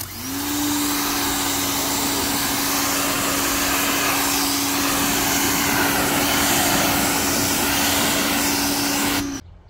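A Greenworks 2100 psi electric power washer sprays steadily, a loud, continuous motor whine and hiss held close for about nine seconds before cutting off abruptly.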